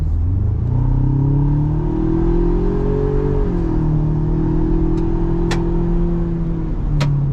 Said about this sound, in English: That exhaust sounds awesome. You can hear a little bit of that turbo spooling up